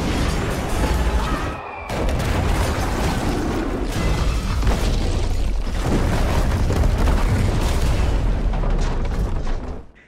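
Bombing explosions in a war movie scene of an air raid on Yugoslavia, with houses and hospitals reduced to rubble: dense, continuous booming rumble and blasts, loud and close, with a brief dip before the barrage resumes.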